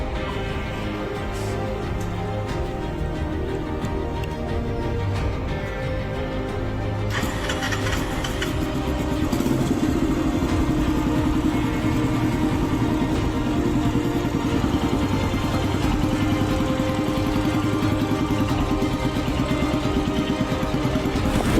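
A motorcycle fresh from rolling road tuning runs steadily nearby, its engine note rising and holding loud after a few seconds and droning on evenly for the rest of the ride.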